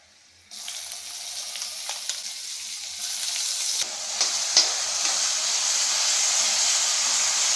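Mint paste hits hot oil in a pan for mint rice, starting with a sudden loud sizzle that settles into steady, close frying with occasional stirring clinks.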